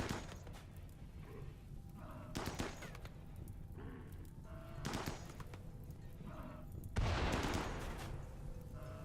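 Colonists fire weapons in the RimWorld video game, with scattered gunshots cracking out in short bursts at uneven intervals, moderately loud and standing alone over a low background.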